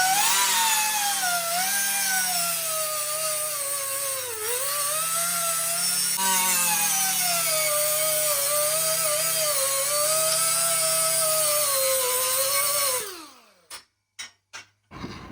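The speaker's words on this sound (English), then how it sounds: "we're gonna start with grinding off some of this paint real quick" An angle grinder strips paint from a steel tow bar plate for a 1971 Super Beetle, a loud sustained whine that wavers in pitch as pressure changes, then spins down followed by a few sharp metallic knocks.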